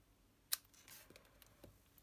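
A single quiet, sharp snip of scissors through card for a handmade Christmas card, followed by faint rustles and small handling clicks on a quiet table.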